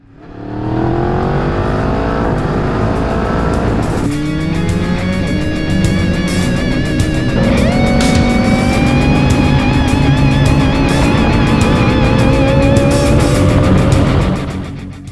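A 2008 Kawasaki ZX14 (ZZR1400) motorcycle with a full Yoshimura exhaust system revs loudly and continuously, rising and falling in pitch with a throaty, rasping exhaust note close by for about fifteen seconds.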